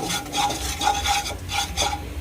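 Chili, coriander and cumin powder with salt being stirred into lotus seeds, a dry rhythmic scraping and rustling of the spoon through the seeds in repeated strokes, fairly close, with no voices.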